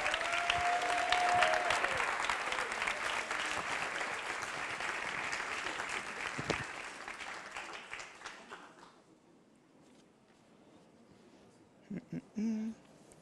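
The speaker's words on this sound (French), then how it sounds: "Je vous demande d'applaudir" Applause fills the room at a municipal election campaign launch meeting, a sustained wash of many hands clapping that fades out after about nine seconds, leaving quiet room tone with a few faint sounds.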